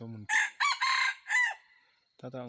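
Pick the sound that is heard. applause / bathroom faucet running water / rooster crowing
rooster crowing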